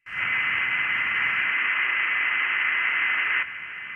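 Kenwood TS-590SG ham radio receiver tuned to a station, giving a steady loud band of hiss and static that holds for several seconds, then drops slightly in level near the end, with no voice coming through.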